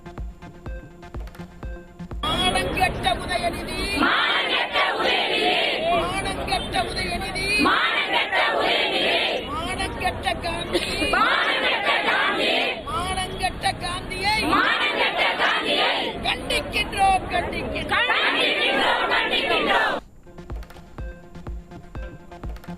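Protesters at an AIADMK demonstration in Tamil Nadu chant in loud, rhythmic bursts, a dense crowd roar repeating in waves with brief dips between phrases, continuing strongly before cutting off near the end.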